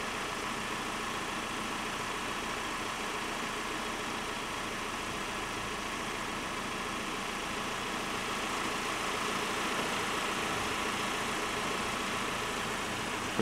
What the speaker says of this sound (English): Pretty sure they might be using their phone whilst the engine's running.